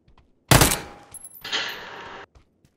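A gunshot in a video game, one sharp loud blast followed a moment later by a longer hissing burst of noise, then quiet.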